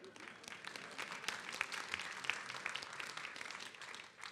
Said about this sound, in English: yes, applause is good there